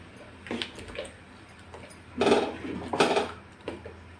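A spoon scrapes and knocks against a pot while a sabudana and potato papad batter with chopped green chillies is stirred, giving irregular soft clinks with two louder scraping strokes, close and without talk.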